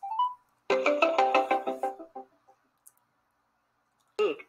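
Phone dialing into a Google Meet call on speakerphone, a melodic electronic ringing tone in a quick repeating burst, then a pause and a brief beep.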